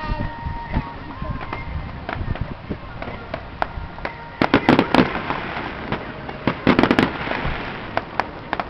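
Bonfire night fireworks in Aberdeen pop and crackle over a steady crowd murmur, with two loud clusters of sharp bangs in the middle and end.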